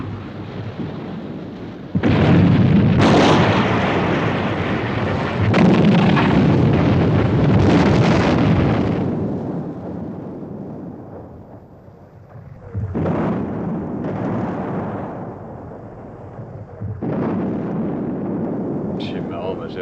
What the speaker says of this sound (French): Nos canons n'ont pas du tout le même son que ceux des Japs.